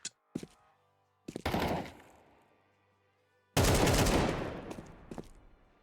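AK rifle bursts in a video game: sharp close shots, then two heavy volleys whose echo tails fade slowly, the last and loudest stretching about two seconds before a few scattered follow-up shots.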